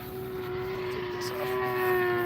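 Steady propeller drone from a DA 200 gas engine on a radio-controlled aerobatic airplane at an IMAC practice at an RC club field, a constant tone with a slight swell toward the end.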